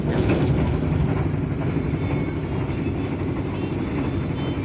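A luxury train carriage in motion, a constant loud rumble of wheels and cabin noise with steady low vibration and faint rattles throughout.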